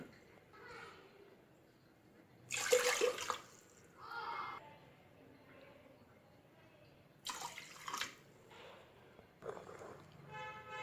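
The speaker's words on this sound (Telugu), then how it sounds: "అదే కప్పుతోటి రెండున్నర కప్పులు వాటర్ పోసుకోవాలండి" Two and a half cups of water splash and pour into a pressure cooker pot in a few short bursts, with quiet gaps between and faint background voices.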